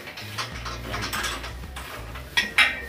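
A metal clamp is fitted and tightened on a leaking roof, giving a series of close ratcheting clicks and scraping metallic ticks, ending in two sharper clacks.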